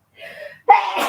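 A single close sneeze: a short breathy intake followed by a sharp, loud burst.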